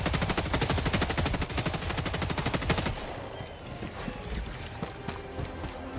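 Helldivers 2 automatic gunfire rattles in a rapid, continuous burst for about three seconds, loud and close, then stops, leaving quieter game ambience with scattered small impacts.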